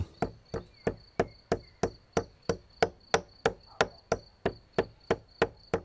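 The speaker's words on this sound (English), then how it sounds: "We grind in the mortar half a nutmeg, a bit of sugar, cinnamon and the arugula seeds." A pestle pounds half a nutmeg, sugar, cinnamon and arugula seeds in a mortar for a medieval sauce. About seventeen evenly spaced, crisp thuds follow a steady rhythm, close and distinct.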